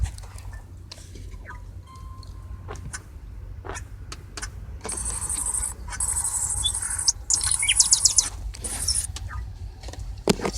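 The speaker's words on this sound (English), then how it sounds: "He has a bird." A pet bird chirps in rapid, high twittering bursts, close by, growing busier in the second half over a low steady background hum with scattered clicks.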